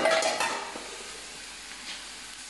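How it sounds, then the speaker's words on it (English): Chopped tomatoes sizzle and fry in a pan for a chicken tikka curry sauce while a utensil stirs and scrapes, with soft, steady crackling at close range. "So I'm going to add in my tomatoes now, so that it can fry in a little bit as well."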